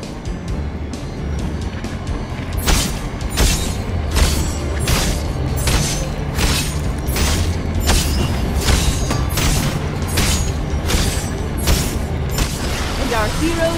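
Explosive booms and crashing game effects from an unstable rift being destroyed in Orcs Must Die! Unchained on the Docks at Eventide map, a dense run of repeated blasts over a steady loud rumble.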